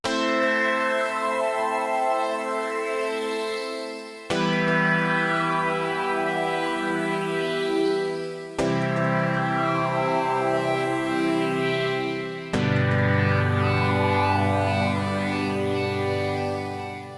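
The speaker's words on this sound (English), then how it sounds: "So let's start off with pads." Sustained cinematic guitar pads from Sample Logic's Cinematic Guitars Infinity, a steady harmonic wash that shifts chord roughly every four seconds across four sections with sweeping textures, played alone with no talking.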